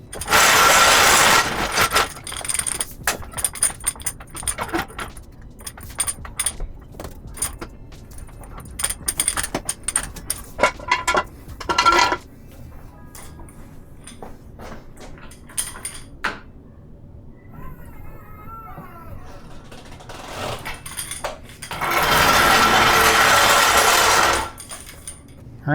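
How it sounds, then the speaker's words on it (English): Metallic clanks, ratcheting and clatter as a 2022 Mini is lowered off jack stands, a run of irregular close knocks and scrapes with bursts of louder rushing noise near the start and end, no speech. "get this off the jack stands"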